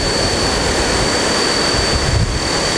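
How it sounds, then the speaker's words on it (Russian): Ocean waves on a Sumatra beach, a dense continuous wash of surf with strong wind noise buffeting the microphone, loud and steady with no voices. "с другой стороны океан"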